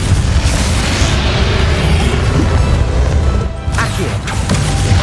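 A Bombarda spell exploding in Hogwarts Legacy, a loud sustained booming blast with crashing debris that dips briefly, then rumbles on.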